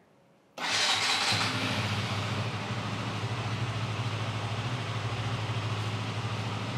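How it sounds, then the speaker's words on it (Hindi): A KTM RC 200 motorcycle engine fires up abruptly after a moment of quiet, then settles into a loud, steady idle as it warms up, heard up close with no talking. "शुरुआत करेंगे सबसे पहले जो इसका इंजन है उसको वार्म अप करने से"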